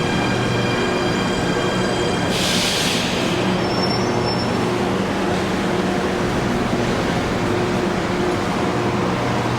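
Metro train on the line to Athens airport running steadily with a loud continuous rumble and hum, a brief burst of high wheel squeal and a short thin whine partway through, no talk.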